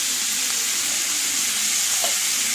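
Onions sauté in hot oil in a pan for a prawn fry, a loud steady sizzle and hiss that carries on without break, close up and alone.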